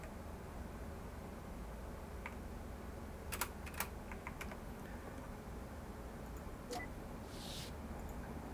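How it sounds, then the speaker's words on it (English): A handful of faint, scattered clicks from a computer keyboard being typed on, bunched in the middle and near the end, over a steady low hiss with no talking. "I have to use the keyboard to get out."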